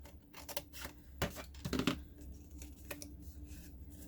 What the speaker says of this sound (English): Now, to make a stand-up, I cut in the middle of my shape